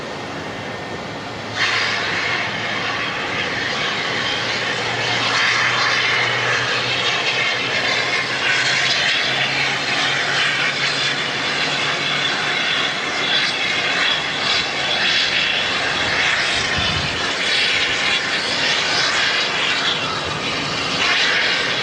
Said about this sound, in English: they don't need that anymore, so they've got to vent it and get rid of it. And that's what the big whoosh is.